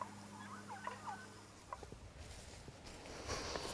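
Bresse turkeys out on the farm range give a few faint, distant gobbling warbles early on, over steady outdoor ambience with light scattered rustling and patter toward the end.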